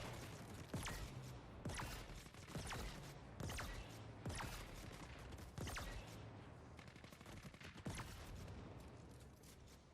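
Rapid gunfire from weapons in The Ascent, a cyberpunk shooter game, with repeated sharp bursts and shots cracking throughout at a steady, dense rhythm.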